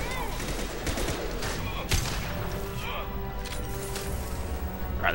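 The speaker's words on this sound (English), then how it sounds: "Firing a high impact shot." A high impact shot fired in Mass Effect 2, sharp gunfire bursts and a heavy crack amid battle noise, with someone talking over the action throughout.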